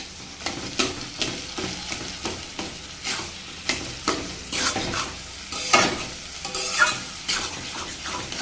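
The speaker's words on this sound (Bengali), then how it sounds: "কচুর শাকটাকে কিন্তু বেশ ভালো করে নেড়ে চেড়ে একদম মিশিয়ে দিতে হবে" Taro leaves being stirred and fried in a pan, with repeated scraping strokes of a spatula over a steady sizzle, close and fairly loud, with no talking.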